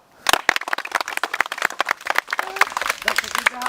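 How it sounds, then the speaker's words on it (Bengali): A crowd at a village children's oiled banana-tree climbing game claps and cheers in bursts of uneven, close applause, with people talking loudly over it. "সবাই একটা হাততালি দাও"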